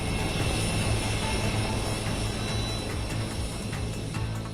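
Light combat helicopter Prachand in flight, a steady, loud broadband roar with low rotor throb held throughout, continuous and close.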